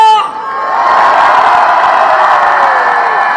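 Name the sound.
rally crowd shouting and cheering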